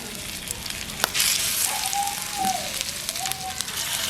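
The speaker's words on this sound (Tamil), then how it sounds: "எண்ணெய் கொதிச்சிட்டு இப்போ நாங்கள் மீன்களை அடுக்க போகிறோம்" Fish laid one by one into three to four tablespoons of hot sesame oil in a pan for Jaffna-style fish fry: a steady, close hiss of frying that swells after a sharp tap and holds throughout.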